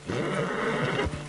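A horse in the Red Dead Redemption II video game gives a single fairly loud whinny lasting just over a second, its wavering neigh standing alone with no talk over it.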